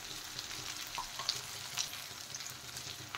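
Potatoes and ground spices sizzle steadily in a hot pan for a fish-head cabbage dish, a continuous close frying hiss with a few light clinks of stirring and no voices.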